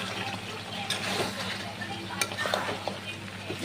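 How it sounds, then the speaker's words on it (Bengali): Chicken kosha is stirred in a pan after sugar, garam masala and ghee go in. The spatula scrapes and clinks against the pan over a low sizzle, busy and close, and a voice talks over it. "আর নেড়ে চেড়ে সবটাই মিশিয়ে নিতে হবে।"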